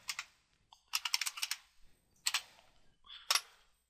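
Quick keystroke clicks on a computer keyboard entering a terminal command, in short bursts of rapid taps separated by brief pauses, close and fairly quiet, with no talk.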